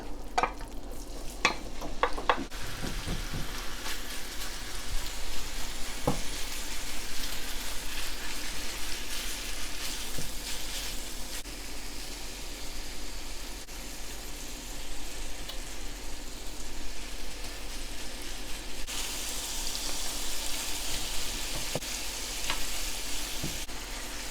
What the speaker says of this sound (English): I'm going to go with kimchi on one side, meat on this side.